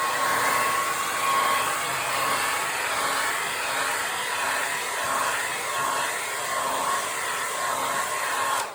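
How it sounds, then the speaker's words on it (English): A hair dryer blows steadily over wet paint on a fantasy painting, a loud, even whooshing roar that holds unbroken for several seconds with no talking over it. "we're gonna just go ahead and hit it with the hair dryer now"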